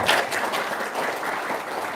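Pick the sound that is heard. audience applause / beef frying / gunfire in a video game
audience applause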